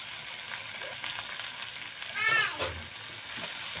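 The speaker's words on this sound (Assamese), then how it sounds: "আৰু ইয়াৰ পানী পানী ভাতটো যোৱাকৈ মই অলপমান এনেকৈ হাতেৰে লৰাই লৰাই ভাজি থাকিম" Fish frying in oil in a pan sizzles quietly and steadily while being stirred by hand, with a few soft scraping stirs and a brief louder burst midway.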